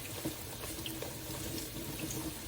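Tap water runs steadily into a kitchen sink while food is rinsed, a close continuous splashing stream with slight variations from hands moving under it.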